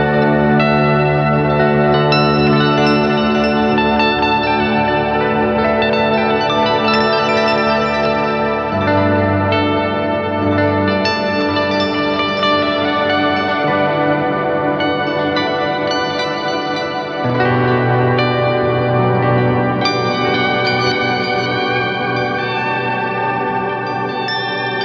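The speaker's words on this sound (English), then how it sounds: "an absolutely stunning ambience machine that sports delay, reverb, bit crusher, and a super powerful clock sequencer" A Collision Devices ambience pedal with delay, reverb and bit crusher, a sustained shimmering wash of echoing, chorused and slightly gritty tones that changes harmony in broad sections, loud and continuous with no voices.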